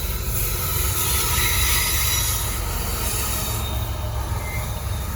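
A slow Norfolk Southern freight train with a failed distributed power unit rolls by close and loud in Gaffney, South Carolina, wheels squealing and rumbling continuously against the rails throughout.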